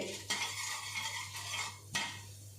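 Gram dal roasts over low heat in a pan, with soft scraping stirs and two sharper clinks of a spoon against the metal over a faint, steady sizzle; no voices.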